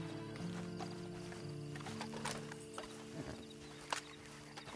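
Horse sounds in the video game Red Dead Redemption 2 Online: soft hoof clip-clops and snorting under a low sustained musical drone, with a sharper thump near the end.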